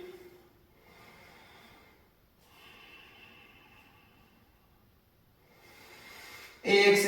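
During a yoga strengthening exercise, slow deep breaths rise and fade in long hushed waves, close and soft, ending in a sharper, louder exhale.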